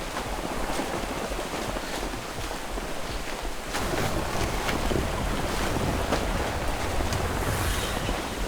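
A warship ploughs through rough ocean water in a naval video game, a steady loud wash of waves and spray with wind roaring throughout and occasional sharper splashes, no voices.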